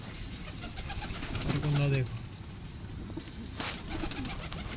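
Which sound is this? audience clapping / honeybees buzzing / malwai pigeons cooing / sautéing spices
malwai pigeons cooing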